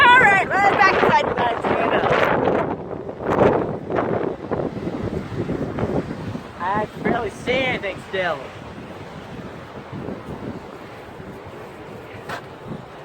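A strong wind storm roars outdoors, with loud, continuous gusts buffeting the microphone while people talk close by throughout.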